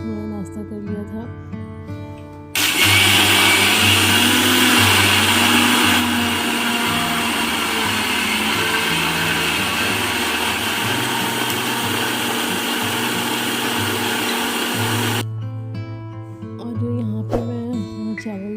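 Kitchen mixer grinder whirring loudly as it grinds soaked rice and lentils into idli batter, starting abruptly and running steadily for about thirteen seconds before cutting off, with household sounds and faint voices around it.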